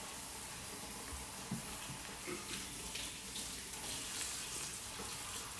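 Hot water poured into a cup with instant coffee and stevia for whipped keto coffee, a quiet, steady trickling stream with a few small splashes, close by and alone, with no talk.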